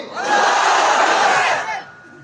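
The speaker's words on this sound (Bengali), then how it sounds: "এটা তাকবীর দেন তো সবাই, লিল্লাহি তাকবীর।" A large crowd at a religious sermon roars a takbir (Allahu Akbar) in unison, a loud, sustained swell of many voices lasting under two seconds before fading out.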